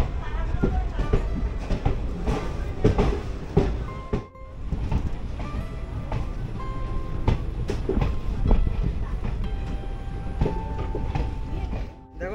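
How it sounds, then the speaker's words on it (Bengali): A passenger train pulls out of Jangipur Road station on the Kolkata to NJP route, with continuous rumbling, rhythmic clickety-clack of wheels on rail joints, and carriage rattles, close and loud throughout. "ট্রেন তো জঙ্গিপুর রোড ছেড়ে দিল।"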